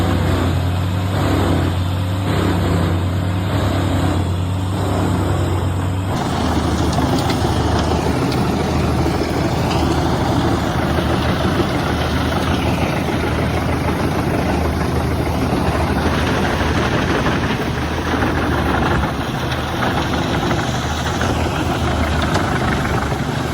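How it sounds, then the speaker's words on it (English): Tree chipper shredding tough eucalyptus wood in a dry Australian landscape, a loud continuous engine drone with grinding and crunching from the blades as the feed changes partway through. "razor-sharp blades tear through the tough eucalyptus wood"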